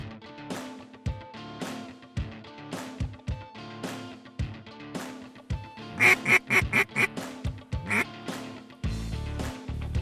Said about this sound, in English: No, these are all local ducks